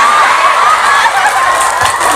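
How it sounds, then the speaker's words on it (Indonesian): A loud, dense crowd at an Islamic sermon event cheers and claps in a continuous roar, with shouts and whoops rising through it. "tepuk tangan"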